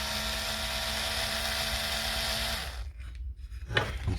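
A powered driver whines steadily up close while removing screws from a Dewalt, Makita or Milwaukee power tool, then stops, followed by faint handling and scraping of parts, with no talking.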